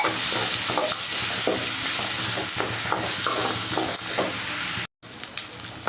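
Coarsely pounded ginger, garlic and green chili paste fries on a low flame for lemon rice while a spoon scrapes and stirs it rhythmically over a constant sizzle, briefly cutting out near the end.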